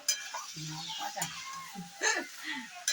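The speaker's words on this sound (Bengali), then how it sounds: "ভাজা ক্যাপসিকামটা দিয়ে দিলাম, দিয়ে একটু নেড়ে নেওয়া হচ্ছে" Fried capsicum and fried flour pieces for Kashmiri dhoka sizzle in a pan while being stirred, with scraping and crackling close by and a voice speaking over it.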